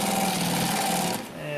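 A Consew P1206RB upholstery sewing machine stitching over thick canvas seams, a rapid steady mechanical chatter close by that slows near the end, with a voice heard over it.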